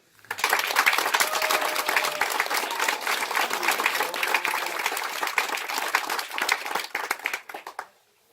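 Audience at a market inauguration breaks into loud, sustained applause, dense clapping from a sizable crowd that holds for several seconds before tapering off abruptly, with a few stray claps at the end.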